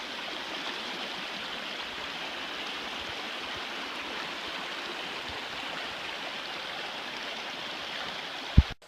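A river near Panther Creek Falls runs steadily around a rock midstream, a constant close rushing wash with no voices, ending in a sharp brief knock.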